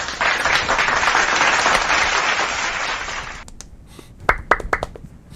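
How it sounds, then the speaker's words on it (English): Loud, dense applause from many hands fills the first three seconds, then cuts off into a few scattered, separate claps and taps. "Now I know so many different clapping noises."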